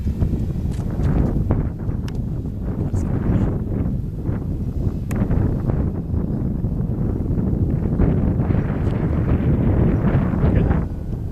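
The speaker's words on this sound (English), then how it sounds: "It's getting windy." Strong wind buffets the microphone outdoors at an RC plane flying field, a loud, constant rumbling roar with gusty surges that fills the whole stretch without a break.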